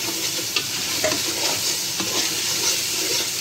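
Masala spices sizzle and fry in a pan for chole biryani as they are stirred, a steady close crackle with soft scraping strokes throughout and no talking.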